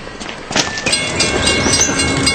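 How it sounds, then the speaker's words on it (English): A train passing along railroad tracks, a loud steady rumble with clattering wheel noise building over a couple of seconds, no talking. "Trains are big, deceptively fast, and can't stop quickly."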